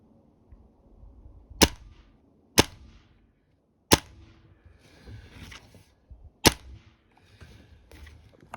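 Crosman Magfire Extreme air rifle firing shots at 25 feet, five sharp, loud cracks spaced about a second or more apart, with quiet handling noise between them.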